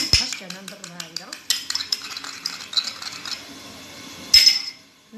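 An egg is beaten in a bowl with a utensil, producing quick rhythmic clinking strokes in bursts that stop and restart, close and fairly loud, then fade to quiet.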